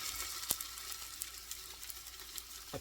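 Onions and tomato paste being stirred in a pot for homemade beef stew, a faint, steady sizzle with a few soft scrapes and taps of the spoon, no talking.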